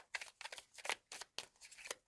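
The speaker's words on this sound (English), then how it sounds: "Let's do one more shuffle here." Cards being shuffled by hand: a rapid series of crisp riffling bursts, close and fairly quiet, with short pauses between them.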